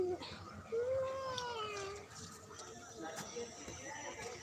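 A cat in a village setting gives a drawn-out, wavering meow early on, then fainter mewing. An adult voice speaks over it, imitating the meow to coax a child.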